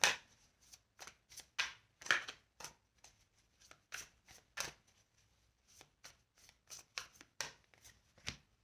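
Tarot cards are shuffled and drawn in a quiet room, making a series of crisp, close riffling and slapping bursts at an irregular rhythm, with no voices.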